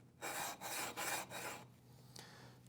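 Abrasive rubbing as the edges of a sharpening waterstone are chamfered at an angle, three steady gritty strokes in a row followed by a fainter brief scrape, close and alone with no talking.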